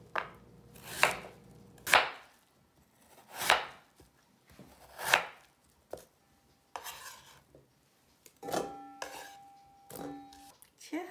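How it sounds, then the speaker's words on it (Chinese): A knife chops through radish on a board, cutting it into thick slices of about one centimetre, with a steady run of sharp, close cuts at roughly one-second intervals and a few lighter taps near the end. "每一个切成大概是1公分的厚片"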